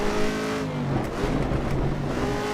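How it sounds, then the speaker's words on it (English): Race car engine in the Assetto Corsa Evo racing game, loud and close, with steady engine drone and quick throttle blips rising and falling across the run, no talk. "Blip the throttle, Rusty."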